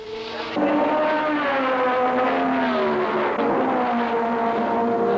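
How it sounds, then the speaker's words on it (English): Grand Prix racing cars lap the circuit during a 75-lap race. Their engines drone loud and close in sweeping, shifting pitch, with one car rising in over the sustained roar. "75 laps and 27 of the fastest cars in the world lapping them up"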